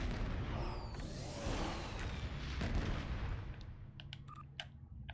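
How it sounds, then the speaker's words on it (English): Fireworks burst in Star Trek Online as a dense, continuous barrage of booming, crackling explosions, loud and close, with sharper pops near the end. "Yay, fireworks for everyone."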